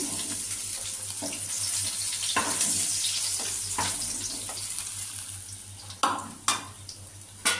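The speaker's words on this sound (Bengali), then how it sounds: "আমি মাছগুলো সব ভেজে তুলে রাখবো" Pieces of fish fry in hot oil in a pan, giving a steady sizzle with a faint hum underneath. Several sharp scrapes or clatters are heard near the end.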